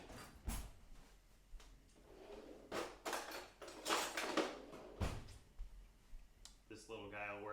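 A whisk is pulled from a kitchen drawer: utensils clatter and knock in a series of scattered bangs and rattles, with a voice talking between them.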